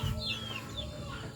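Chickens clucking, a few short scattered clucks and calls from nearby birds against a low, steady background hum.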